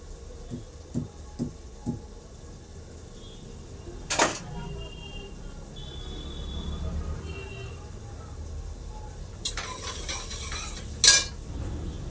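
Utensils scrape and clink against a pan while a tempering fries and is stirred, with a few sharp knocks and a soft sizzle in between, fairly quiet overall.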